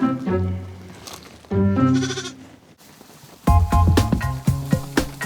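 Several loud, close lamb bleats with wavering harmonic cries in two bursts, followed by a busier stretch of overlapping bleats from a lamb wandering a farm paddock.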